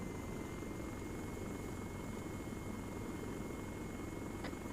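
A video-game helicopter that has lost its tail rotor drones on steadily, its engine and rotor noise a constant low hum, with no voices.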